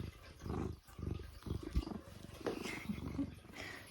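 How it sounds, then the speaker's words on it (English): A close, low rumbling purr swells and fades in slow cycles with soft breathy texture, steady for a few seconds. "She's purring."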